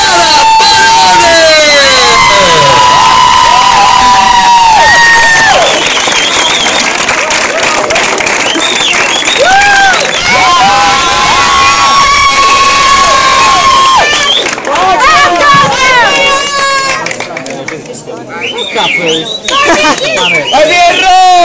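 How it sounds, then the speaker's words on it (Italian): A loud crowd claps, cheers and shouts for the Latin Passion dance team at an opening event, with high whoops and children's yells rising over continuous applause and voices calling out through the din. "io vorrei un fortissimo applauso per la Team Passion, Michele Di Benedetto, Chiara Barone"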